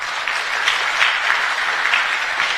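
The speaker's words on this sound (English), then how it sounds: "give a round of applause to our panelists" Audience applause for the panelists at a joint AU-EU and Malawi government conference, a steady crowd clapping that holds at a moderate level throughout with no voices over it.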